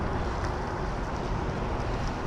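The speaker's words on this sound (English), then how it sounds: "The weather's not bad, a little bit windy, kind of chilly" Steady wind rushes and buffets the microphone outdoors near Marie Curtis Beach in Etobicoke on a chilly day, a constant low roar with no other distinct sounds.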